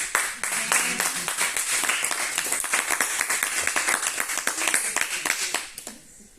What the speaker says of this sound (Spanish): Dale un aplauso al Rey, que se lo merece.